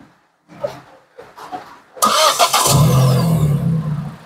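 A Proton Saga VVT car engine cranks and catches after some quiet talk, then settles into a loud, steady idle close by.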